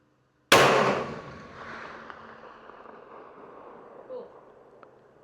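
A CVA Endura Pro muzzleloader rifle fires a single loud, sharp shot at a long-range target, followed by a long, fading echo across open ground.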